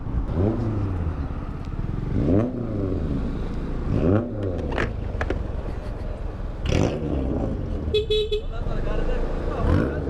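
A car engine revs repeatedly with rising and falling exhaust roars, close by, while people talk over it and a brief horn-like tone sounds.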